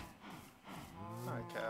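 Cows in the Minecraft video game let out a soft, drawn-out moo, followed quickly by a second rising, wavering moo, both fairly quiet.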